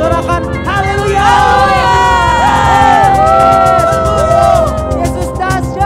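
Children at a church kids' service cheer and shout hallelujah together, a loud, dense crowd of young voices with whoops rising over steady music, the noise continuous from start to end.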